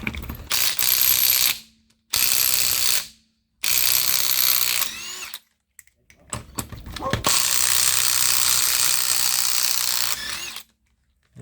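A ratchet or power tool works loose the wheel nuts on a 1988 Jaguar S3 V12, in several long loud mechanical buzzing runs broken by short silent gaps, close up and without talk.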